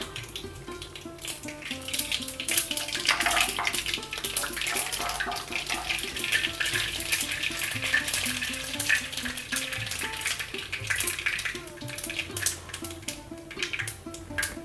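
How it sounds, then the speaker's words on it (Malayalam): Dense crackling and popping of seeds spluttering in hot oil, rapid irregular bursts over a steady sizzle, close up with no talking. "കടുക് പൊട്ടട്ടെ"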